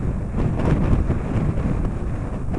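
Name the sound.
gusty irregular wind on a hillside slope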